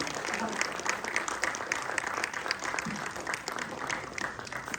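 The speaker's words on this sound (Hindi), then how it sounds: "जोरदार तालियां बजती रहनी चाहिए।" Sustained crowd applause at an international yoga conference at a Sanskrit university, a fairly distant, even wash of many hands clapping with faint voices mixed in.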